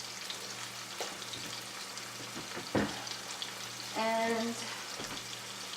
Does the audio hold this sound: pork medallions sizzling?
yes